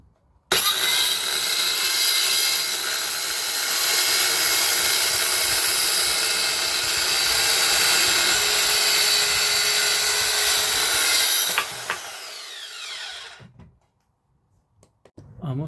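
A Guild 500W mini circular saw with a 24-tooth rip blade cuts through a piece of decking in one loud, steady pass of about eleven seconds, then winds down and stops.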